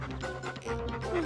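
Cartoon dog panting in quick, breathy puffs, close and fairly soft, several short bursts in a row with no talk over it.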